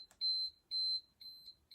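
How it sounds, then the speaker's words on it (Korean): A manual study timer sold as a school supply for elementary students sounds its alarm: a string of bright, high electronic beeps, two long tones then shorter ones, clear and close in a quiet room. "이렇게 알람까지 돼서 수동이지만 굉장히 잘 사용하실 수 있어요"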